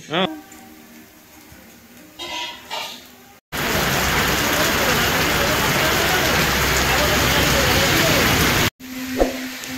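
Heavy rain pours outside in a steady, dense hiss for about five seconds. Quieter household sounds come before it and after it.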